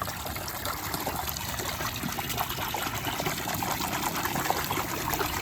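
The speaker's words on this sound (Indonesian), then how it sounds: "Kita kasih gelembung begini." Steady bubbling water aerating a tub of live jumbo carp kept alive before grilling, a constant close gush and trickle running without pause and no talk over it.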